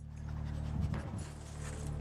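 A search dog at a dirt-floored site with a large hole sniffs and pants close by, a quick run of breathy huffs lasting about two seconds.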